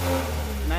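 A Honda Civic engine on its stock exhaust revs up briefly and close by, a short mid-pitched rasp that rises toward the end of the burst.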